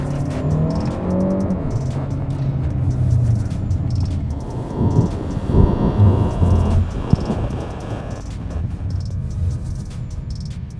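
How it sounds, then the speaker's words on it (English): A 2023 Chery car accelerates during a test-drive acceleration run to 45, its engine and road noise droning steadily and rising in intensity, with a sharp brief knock midway, no talking. "Over here it's an acceleration test, 45, and then a emergency lane change."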